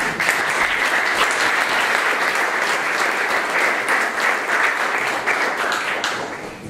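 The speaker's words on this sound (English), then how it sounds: "So please give him a warm round of applause." Sustained applause from an audience, dense and steady clapping that fades slightly toward the end.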